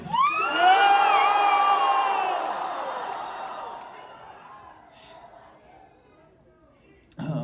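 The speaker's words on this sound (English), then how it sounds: "I want you to yell Charles as loud as you fucking can." A large crowd at a memorial benefit concert in Mission Ballroom yells a name and cheers loudly and all at once, the roar swelling and then slowly fading into scattered whoops, with a voice returning at the very end.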